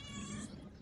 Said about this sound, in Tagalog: nagkakagulo na yung ating mga pusa